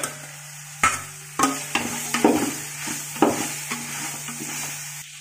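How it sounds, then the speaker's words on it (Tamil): Slit green chillies sauté with ginger and garlic in a hot pan, with a continuous sizzle broken by repeated scraping knocks of a spoon stirring against the metal. The sound is close, with no talking. "இப்போ நான் ஒரு ஏழு பச்சை மிளகா லைட்டாக கீறிட்டு நீங்கள் அதில் போட்டுக்கோங்க"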